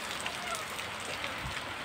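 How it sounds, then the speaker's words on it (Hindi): Steady rain pours down close by in a Himachal Pradesh mountain village, a dense, even patter on surfaces with no let-up. "तो भाई बारिश हो रही है, बहुत भीगे।"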